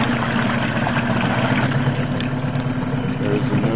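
A 1995 Mariner 8 HP two-stroke outboard with a 25-inch shaft and electric start idles in neutral, a steady close mechanical drone with even, unchanging tone throughout.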